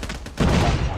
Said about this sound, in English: I'm just tap firing.